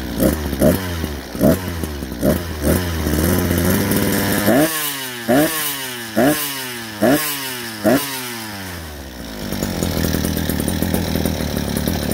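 A small two-stroke brush cutter engine revs up in repeated bursts, several sharp throttle blips over a rough idle, then settles into a steady buzzing run, loud and close.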